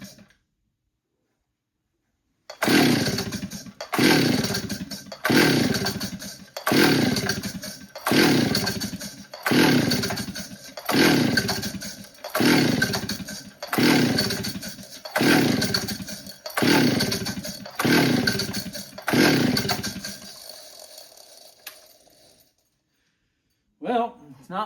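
Someone repeatedly pulls the starter cord of a Stihl 034AV chainsaw with the choke on, on a chilly workbench. There are about a dozen loud, rhythmic rasping pulls that never catch and run, then a pause and a brief final sound.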